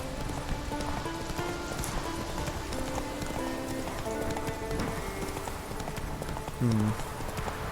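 Roach, Geralt's horse in The Witcher 3, clip-clops along at a steady pace in a rainy outdoor scene, the hoofbeats continuous under ambient music, with a brief louder thump near the end.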